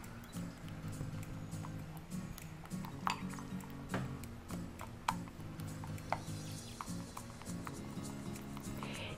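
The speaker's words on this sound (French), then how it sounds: "Et on mélange." A spoon stirs homemade toothpaste paste in a bowl, making scattered light clinks and scrapes in an irregular rhythm, close and soft over a low background hum.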